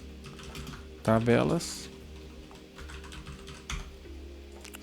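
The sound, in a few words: typing on a computer keyboard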